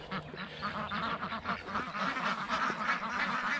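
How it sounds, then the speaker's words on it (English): A large flock of about 65 farm ducks quacks and honks at once, a dense overlapping chorus that stays fairly loud and close throughout, with no voice over it. "I've got about probably around 65 ducks now."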